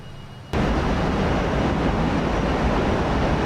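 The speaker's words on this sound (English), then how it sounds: "So the people don't like the sound of this plane. Too noisy." Airplane engine noise in Microsoft Flight Simulator 2020 on a route from Metro Manila toward Bohol, Philippines, starting abruptly after a quiet moment and then holding as a loud, even, broadband roar.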